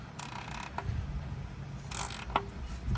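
On a 2007-2011 Toyota Camry XLE V6, a specialty socket unscrews the oil filter housing, giving short ratcheting clicks and creaky mechanical scrapes in two brief bursts, close and fairly quiet.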